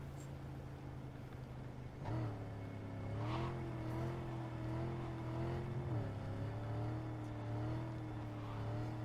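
Type 66 car driving in Cyberpunk 2077, a steady engine drone that rises in pitch twice as it revs and shifts, heard close and alone without talk.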